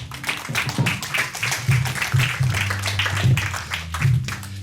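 An audience at a live science storytelling show applauds a volunteer, a steady patter of many hands clapping for several seconds, with a low hum and some voices underneath.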